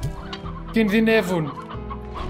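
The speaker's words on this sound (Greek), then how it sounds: "Οι κότες μου" Chickens cluck and squawk in the video game Slime Rancher, a burst of agitated clucking in the middle over a steady droning game backdrop, with someone speaking briefly alongside.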